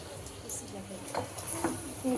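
Noodles being stirred in a pan give soft scraping and spatula scuffs over a steady low sizzle and hiss, with an occasional faint clink of the utensil against the pan.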